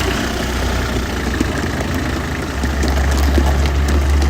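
A Kubota GL300 tractor engine runs steadily at close range, a continuous low diesel rumble with a slight rise in loudness partway through, no talking.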